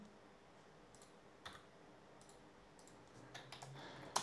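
Login credentials typed on a computer keyboard: soft, irregular key clicks, quiet and close, with a louder clack near the end and no talking.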